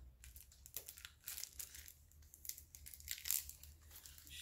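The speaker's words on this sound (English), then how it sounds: "I will have to take the plastic bag off" Crinkling and crackling of a plastic bag being removed from diamond painting packaging, a run of irregular rustles and crunches close by, louder bursts near the end.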